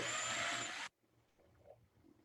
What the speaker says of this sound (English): So I'm just gonna drill a quick hole right here.